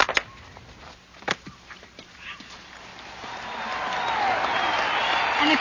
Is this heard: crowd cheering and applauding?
yes